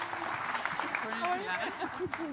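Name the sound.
audience applause welcoming panel to the stage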